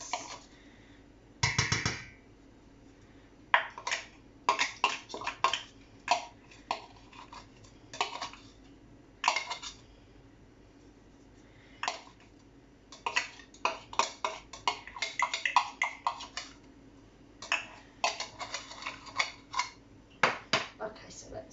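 A spoon scrapes and taps against a pan while creamy salmon tortellini mix is spooned in, with irregular light metallic clinks and knocks, quiet and close, in clusters with short pauses.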